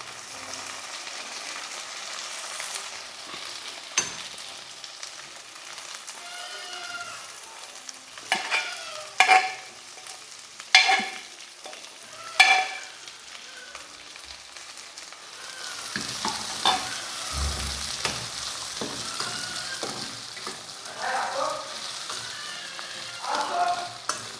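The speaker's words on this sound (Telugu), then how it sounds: "వీటిని ఒక 2 నిమిషాల పాటు మనం ఈ ఆయిల్లోని ఫ్రై చేసుకుందాం." Chickpeas fry in oil with onions and ginger-garlic paste for a kabuli chana curry: a steady close sizzle, broken by the intermittent clatter of a spoon stirring the pan.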